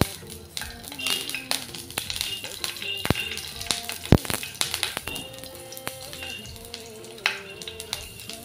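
Green chilies and fenugreek seeds sizzle and crackle in hot oil in a pan, a steady close frying hiss broken by sharp pops and occasional clinks of a utensil, with a voice talking over it.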